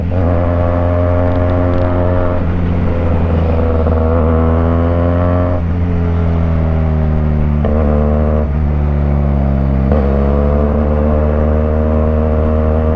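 A loud, close QJ Motor SRK 400 motorcycle engine revs up and down repeatedly, its exhaust note rising and falling in pitch over a steady idle.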